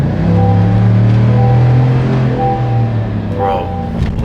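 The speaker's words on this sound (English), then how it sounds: "Bro, this truck sounds crazy." A pickup truck engine rumbles loudly up close, its deep throaty tone rising and falling as it revs, with a brief voice near the end.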